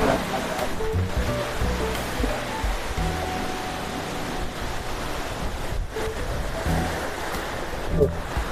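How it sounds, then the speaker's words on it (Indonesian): Water rushing steadily at Putuk Truno waterfall in Pasuruan, a continuous broadband roar of falling and flowing water, close and constant throughout with no talking. "Teman-teman masih bisa bermain di sepanjang aliran air terjun Putuk Turno"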